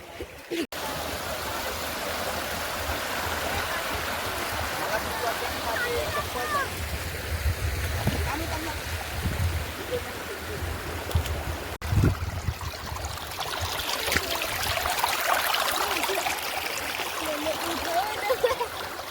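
A small stream flows through a rain-soaked Konkan countryside spot, giving a steady rushing and trickling wash that swells slightly toward the end, with faint voices and a few knocks in the background.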